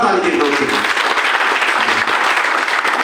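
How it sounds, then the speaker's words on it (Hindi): Loud, dense applause from an audience at a Hindi-language health awareness program, continuous clapping throughout with no pause. "दोस्तों मैं चाहता हूँ जोरदार ताली की दोस्तों"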